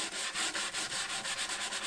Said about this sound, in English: because this wasn't perfect, we do need to sand this down just a little bit.